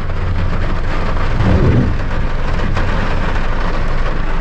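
Steady heavy rain roars continuously during a drive through Consolacion, Cagayan de Oro City, dense and loud, with a brief low rumble partway through.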